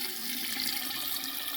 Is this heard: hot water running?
yes